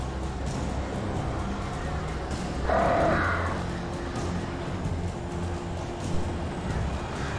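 Crows in Alan Wake let out a single harsh, raspy caw that stands out briefly above a low ambient rumble, moderately loud and close, with faint background sounds and no clear talk.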